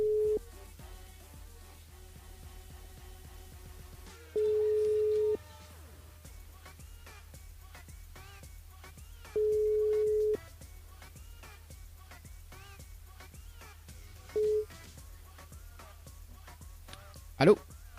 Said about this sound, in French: on appelle Henri du côté de Sainte-Suzanne